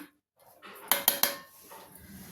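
Green chillies pounded in a cleaned stone mortar for a chutney, with three sharp, close stone-on-stone knocks in quick succession followed by softer grinding scrapes.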